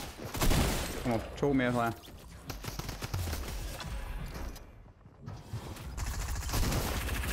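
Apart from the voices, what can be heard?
gunshots in the video game Fortnite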